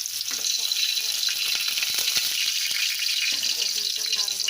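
Garlic hits hot oil in a curry pan and fries with a bright, continuous sizzling hiss dotted with small crackles and pops, close and steady throughout.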